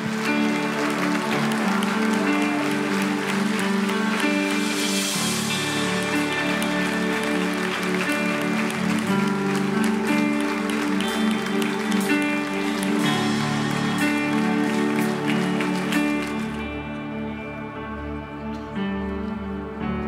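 Church congregation applauding during a service, a dense, sustained wash of clapping that rolls on at full strength before easing off near the end, with music and a few voices underneath.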